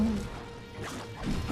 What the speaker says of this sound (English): But I'm not gonna pass up an opportunity to shatter an enemy.